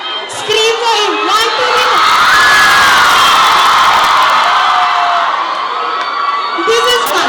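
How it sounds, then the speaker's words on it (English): Girls scream and cheer at a college fest, a loud, sustained crowd roar of shrieks and whoops rising and holding, with a voice briefly heard at the start and end. "Only the girls scream for him."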